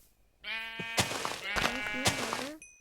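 A sheep in the video game Minecraft bleats several times in a row, loud and close, with short pauses between the calls.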